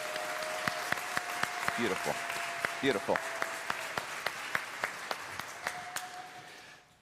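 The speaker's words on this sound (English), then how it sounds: "Give them another round of applause." Audience applause for a junior choir at an annual flower celebration service, steady clapping from a crowd lasting several seconds and fading at the end, with a voice speaking briefly over it.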